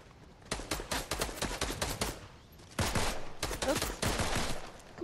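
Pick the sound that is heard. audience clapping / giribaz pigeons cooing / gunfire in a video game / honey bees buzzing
gunfire in a video game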